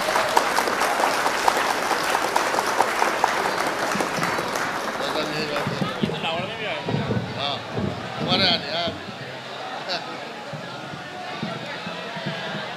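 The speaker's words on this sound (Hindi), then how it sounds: "जोरदार तालियों से इस्तकबाल करें।" Loud, sustained applause from a mushaira poetry audience, dense and steady, easing slightly toward the end with some voices mixed in.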